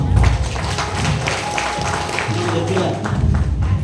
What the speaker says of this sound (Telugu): గట్టిగా చప్పట్లు కొడదాం ఒకసారి